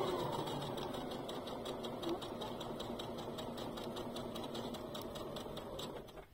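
A sewing machine stitches a reversible bag in a fast, steady mechanical chatter of rapid needle strokes over a motor hum, close and continuous before slowing at the end.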